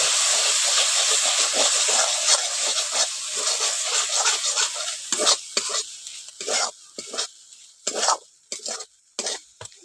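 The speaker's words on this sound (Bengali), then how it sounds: "ওগুলো দিয়ে ভালো করে একটু মশলাটাকে কষে নিচ্ছি।" Chilli and cumin paste with red chilli powder being stir-fried, stirred and scraped in a pan for a jackfruit and prawn curry, close sizzling and hissing broken by bursts of spatula scraping, quieter in the second half, no talk.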